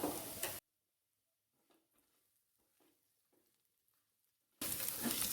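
Cumin seeds and two green chillies sauté in a pan for a green gram curry, a loud sizzle at the start and end with quiet spatula taps and faint crackles between.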